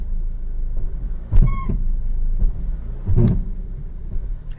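A 2009 Audi TT 2.0L TFSI automatic with a gearbox fault gives a steady low rumble as the car shakes. Two heavier clunking surges rise out of the drone about two seconds apart.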